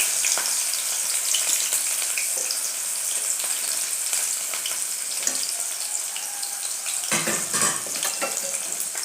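Onions and green chilies fry in a pan while being stirred, a steady close sizzle with scraping stir strokes and a brief louder burst near the end, no talking.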